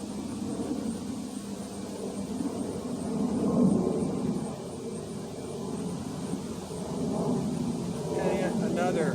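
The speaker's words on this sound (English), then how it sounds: "passenger jet. It sounds like O'Hare's getting busy again." A passenger jet passes overhead near O'Hare airport, a broad low roar swelling and fading in the distance beneath a voice talking.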